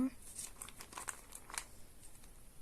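A 120-gram package of duck-meat dog treats crinkles and rustles softly up close in a run of irregular plastic crackles, with a quiet voice nearby.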